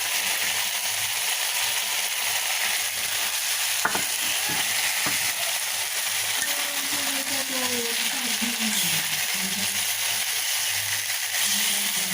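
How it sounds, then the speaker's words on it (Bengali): Fried rohu fish stirred with spices in a hot pan, a steady hiss of sizzling oil with occasional scraping and knocks of the spatula, and faint voices in the background. "এখন মা ভেজে রাখা মাছগুলো দিয়ে মশলার সঙ্গে একটু কষিয়ে নেবো"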